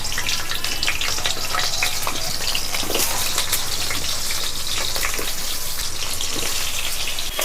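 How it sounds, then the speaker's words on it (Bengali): Potatoes sizzle in a generous amount of hot oil in a pan, a loud, dense, continuous crackle and spatter that stays steady throughout. "বেশ খানিকটা তেল ঢেলে দিচ্ছি আলুগুলো তুলে দিচ্ছি"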